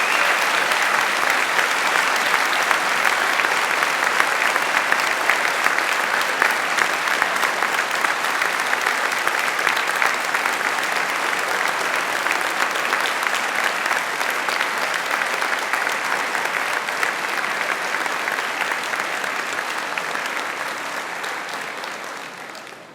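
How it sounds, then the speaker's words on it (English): Sustained audience applause at an Open University degree ceremony in London, a large hall of people clapping steadily and loudly for a long stretch before slowly tapering off. "give them a round of applause for their support to you"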